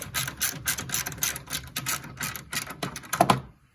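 Rapid mechanical ratcheting clicks come from a socket wrench spinning off the top hat bolts on a BC Racing coilover from a 2002-2006 Acura RSX. The bursts are close and busy, then end in a few sharper clicks before falling silent.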